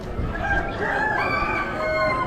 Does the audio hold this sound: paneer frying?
no